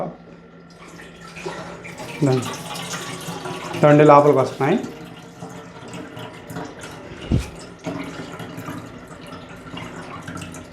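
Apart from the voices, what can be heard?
water being poured into a homemade incubator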